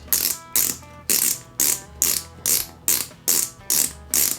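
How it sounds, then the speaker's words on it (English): Ratcheting lace dial on a Korkers Darkhorse wading boot, turned in nine even bursts of crisp clicking roughly every half second, loud and close with no voices. "You dial it until it's snug on your foot"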